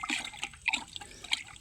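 Banana suckers from a healthy lakatan plant are dipped into a container of water for disinfecting, giving brief splashes and trickling drips, close and fairly faint.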